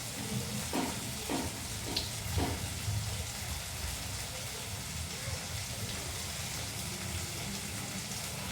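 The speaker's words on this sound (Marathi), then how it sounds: "मस्त असा त्याला फ्राय करून घ्यायचं मसाल्यांमध्ये" Pasta fries in masala with tomato ketchup and green chili sauce, a soft continuous sizzle with a few stirring scrapes early on, steady and close.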